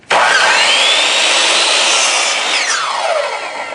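A saw cuts through wood along a marked line. The rasping is loud and steady, runs unbroken from start to finish and eases off slightly near the end, with no voices.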